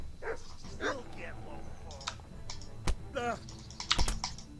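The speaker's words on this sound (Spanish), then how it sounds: "Coño, con el puto perro de los cojones." Dog barking in a medieval video game, a few sharp barks mixed with keyboard typing clicks and a voice talking over it, fairly close and moderately loud.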